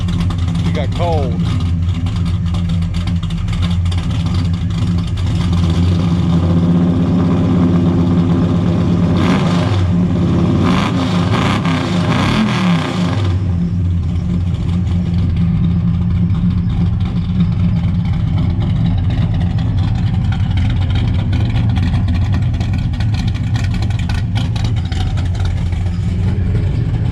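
The engine of a General Lee car with a slightly squeaking belt runs steadily throughout with a loud, droning hum, briefly revving up midway while people talk over it.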